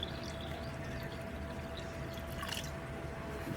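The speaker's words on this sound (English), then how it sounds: "Let's take some of that water off." Water poured off a small pan of fine gravel and material from a Chuck Gentles Parteon bag, a soft steady trickle with faint drips and a brief splashy burst near the end, close and quiet.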